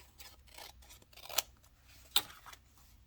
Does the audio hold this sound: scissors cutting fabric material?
yes